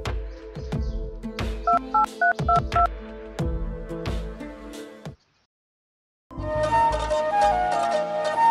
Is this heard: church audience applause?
no